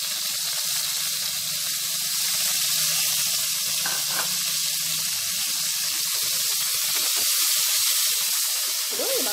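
Stuffed eggplants hit hot oil in a pan with curry leaves, a steady close sizzle and hiss that runs throughout with faint crackles and no talk.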